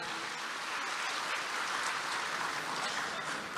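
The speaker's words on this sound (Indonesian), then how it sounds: "kita tepuk tangan untuk yang berani tampil ke depan" An audience applauds at an official gathering, a steady, even wash of clapping that holds at one level for several seconds with no break.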